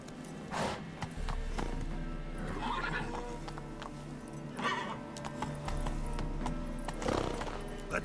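Roach the horse in The Witcher 3: Wild Hunt whinnies a few times over steady clip-clop hoofbeats and low game music, with the neighs standing out clearly above the ambience.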